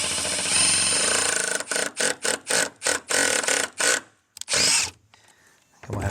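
A power drill drives a screw while a patch panel is being assembled, starting with one long whine, then a rapid series of short pulsed bursts, a pause and a final sustained spin, all close and loud.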